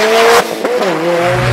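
A Volkswagen Golf GTI, rebuilt from a wreck, revs hard with a rising engine note and tyre noise, then drops off throttle briefly before pulling again, loud and close on winter roads in Sardinia.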